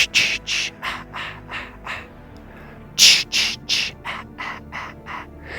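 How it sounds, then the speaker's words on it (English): Jason's signature whispered, echoing 'ki-ki-ki, ma-ma-ma' sound effect from the 2009 Friday the 13th film: two runs of rhythmic breathy bursts, loud and close, with a short quiet gap between them. "I love Jason just for his iconic sound."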